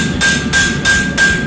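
A farrier's hammer strikes a horseshoe to flatten and polish its surface with overlapping blows, four loud, close, ringing metallic hits at an even rhythm, each leaving a sustained high ring.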